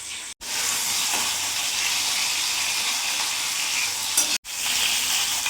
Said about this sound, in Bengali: ওলটা ভাজা ভাজা হয়ে গেছে